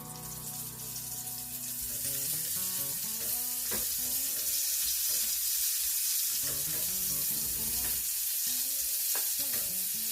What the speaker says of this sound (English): we're over at the stove, ready to get them fried